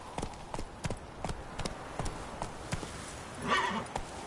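Roach, a horse in The Witcher 3, trots with a steady clip-clop of hooves, evenly spaced and fairly close, ending in a brief swell of rustling noise.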